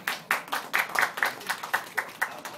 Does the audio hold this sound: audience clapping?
yes